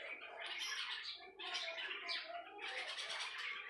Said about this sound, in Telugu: 4 పిట్టలు ఉన్నాయి చూడండి, ఎంత బాగా సౌండ్ చేస్తున్నాయో